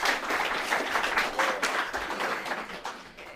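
An audience claps steadily through the whole stretch at a secondary school journalism club's live session at Kisii FM radio, a dense, fairly close patter with no voices.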